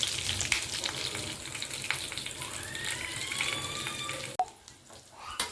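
Dried chillies, ginger and garlic frying in a pan, a steady bright sizzle with small pops and a few metallic scrapes, ending in a sharp clatter and quieter sizzle, no talking.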